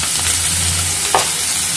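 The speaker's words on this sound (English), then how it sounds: "Let the flame be on high. Saute this for around 2 minutes." Onion, capsicum, carrot and green chili sautéing in hot oil over a high flame for Chinese noodles, a loud, continuous close sizzle with one quick scrape of a utensil.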